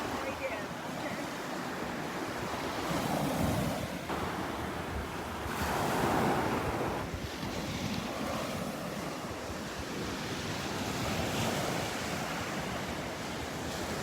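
Ocean surf washing onto the beach at Delnor-Wiggins on a morning walk, a steady rush with swells every few seconds and wind buffeting the microphone.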